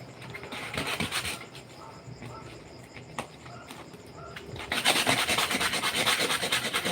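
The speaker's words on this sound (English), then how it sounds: "Now just pick a small area about 1 inch wide and you start your sanding." Sandpaper rubbing back and forth over a small patch during a fabrication project, a steady close rasping that grows louder and denser in the second half, with no talking.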